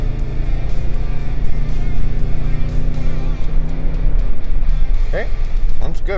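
A Toyota Tundra's engine pulls at about half throttle in tow haul mode while towing a trailer on a country road, a loud, steady low drone from inside the cab, with a voice talking over it.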